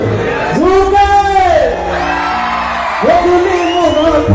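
An audience at a Rongali Bihu stage performance shouts and whoops in loud, rising bursts, two big swelling cheers separated by a brief lull, close and energetic.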